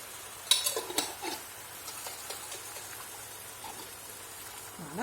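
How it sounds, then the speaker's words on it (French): Water is poured into a hot pan to lift the leftover cooking residue while making a budget couscous from leftovers, heard as a faint sizzle and hiss with a few light clinks of utensils against the pan, quiet and close. "on va mettre de l'eau pour faire tomber tout ce qui reste"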